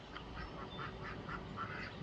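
Ducks quack repeatedly at a backyard coop, a series of rhythmic nasal calls at moderate distance over quiet outdoor background.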